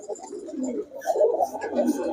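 Female Pakistani pigeon cooing close by, a soft low throaty coo rolling continuously over about two seconds, with faint background sounds.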